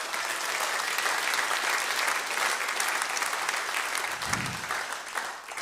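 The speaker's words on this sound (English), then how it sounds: "So please give yourselves a huge round of applause." A crowd at a blues awards ceremony gives a loud, dense round of applause, continuous and steady throughout with no speech over it.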